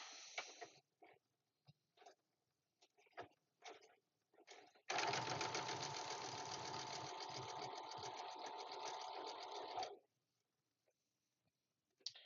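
A sewing machine runs a steady, continuous stitch with its back tack feature on, whirring loudly for about five seconds after brief scattered handling noises, then stopping abruptly.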